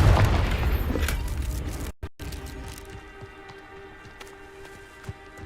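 A Confringo fire spell bursts in Hogwarts Legacy on PS5, with a loud booming blast up front that rumbles away, then a brief cut and quieter crackling debris and game ambience.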